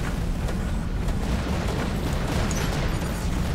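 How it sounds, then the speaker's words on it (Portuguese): Robot weapons firing in the PC game War Robots, a dense continuous barrage of booming, bursting shots that stays loud and steady throughout with no pauses. "Vou ficar no canto só dando meus tiros."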